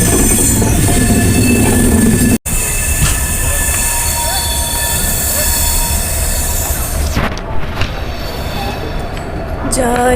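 A passenger train rumbles loudly along the rails from inside the carriage, with steady wheel noise, squealing and clatter, a brief dropout, and indistinct voices underneath.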